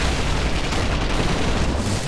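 Dense, continuous gunfire and booms from the co-op horror shooter game Killing Floor, a loud sustained barrage of overlapping shots and blasts with no clear gaps.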